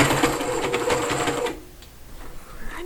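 A sewing machine stitches fabric between two lotus petals of a dimensional piece, a quick rhythmic whir for about a second and a half before stopping into quiet.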